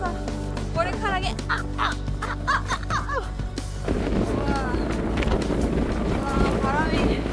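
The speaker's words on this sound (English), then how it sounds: "you can still hear the wind roaring" Strong Icelandic wind roars steadily against the microphone, loud and continuous, with voices talking underneath and getting partly buried by the gusts.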